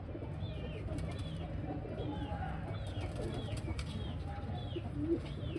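Indian Zakh pigeons calling in repeated soft coos and sweeping notes over a steady outdoor background hiss, moderately distant.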